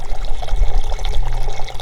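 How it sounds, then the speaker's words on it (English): Water from a gravity-fed camping filter system runs into a mug, a close, continuous gurgling pour and trickle that fills steadily, with no talking. "with gravity again, this fills up my mug"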